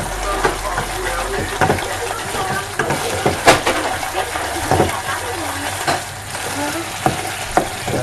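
Thickening coconut toffee (Anlo toffee) mixture stirred in a pot, bubbling and sizzling with repeated sharp utensil scrapes and knocks against the pot at irregular intervals, close up.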